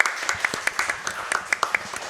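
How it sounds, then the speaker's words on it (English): An audience at a speedrunning event claps for a Kingdom Hearts world record holder, a short burst of steady, moderately loud applause with scattered sharper individual claps. "Please give him another round of applause."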